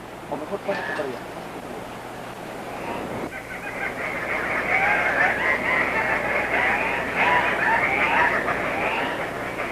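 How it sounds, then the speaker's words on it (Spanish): Strange bird cries and cackles at dawn in the Manu rainforest of Peru: a chorus of harsh, repeated cackling calls swells and builds over several seconds, over a narrator's voice. "unos extraños gritos y cacareos nos advierten que ya vienen"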